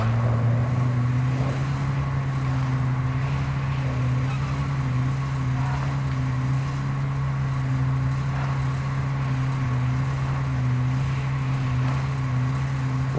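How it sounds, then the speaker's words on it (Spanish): A car engine running rough in Call of Duty Warzone 2.0 gives a loud, steady droning hum with a low throb that holds unchanged for the whole stretch. "Uy, este coche suena mal, ¿eh?"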